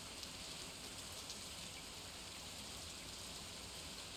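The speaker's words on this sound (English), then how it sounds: "it's a rainy day" Steady rain falling on a farm in the Stardew Valley video game, a continuous even hiss of soft pattering drops with no voices.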